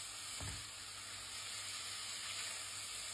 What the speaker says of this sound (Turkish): Havuçları en az 3-4 dakika kavuralım arkadaşlar.